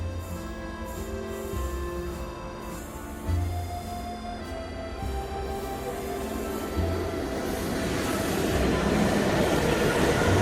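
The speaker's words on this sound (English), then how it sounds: "Choo-choo train." A train rolls past in Paris, a steady loud rumble with rhythmic wheel clatter and metallic hum that swells and grows noisier toward the end.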